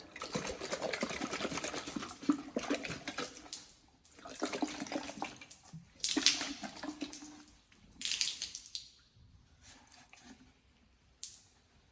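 Water splashing over a dusty RX7 FD bumper light during washing, arriving in several bursts of running, spraying water separated by short pauses, close and moderately loud, no talk.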